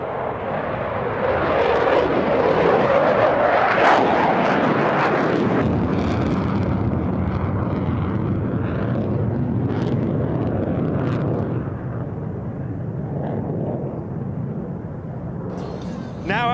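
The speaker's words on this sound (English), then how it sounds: "the Super Hornet dirty roll to half Cuban 8" A Super Hornet jet roars loudly and steadily through an air show dirty roll into a half Cuban 8 at an air race championship, with wind buffeting and an announcer talking over it.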